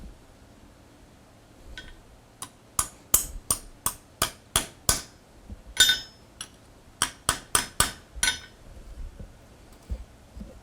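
A hammer peens a rivet on a hand-forged barbecue spoon, about twenty sharp metallic strikes landing close in two quick rhythmic runs with a short pause between them.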